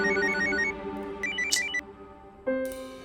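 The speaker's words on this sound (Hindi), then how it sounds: "सौरभ को फोन करती हूँ।" A telephone ringtone rings during a call in a Hindi crime drama, a repeating electronic melody of bright tones that is loud and close, with a shift in the tone pattern near the end.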